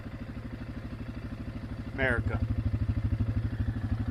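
An engine idles with a steady, rhythmic putter while riding around, close up throughout. A short spoken word breaks in partway and the engine note swells slightly after it.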